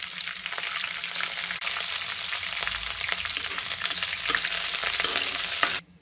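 Chopped ginger, green chillies and curry leaves fry in a pan for rice pongal, making a dense, even sizzle with light stirring scrapes that runs loud and close before cutting off abruptly near the end.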